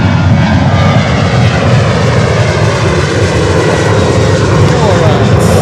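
Boeing 737-300 airliner going around at Miami airport, its engines roaring loud and steady at full power for the whole stretch, with speech audible over the noise.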